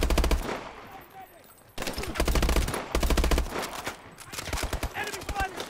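Rapid automatic gunfire bursts in Call of Duty Advanced Warfare on PC, loud repeated volleys broken by short pauses, with a voice talking between and over the shots.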